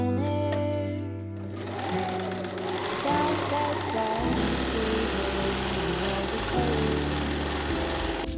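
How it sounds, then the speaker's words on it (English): A serger runs in quick, steady bursts while stitching side seams and inseams on small baby pants cut from upcycled thrifted shirts, its loud mechanical whirr starting and stopping close by with no talk. "I just serged the side seams and the inseams"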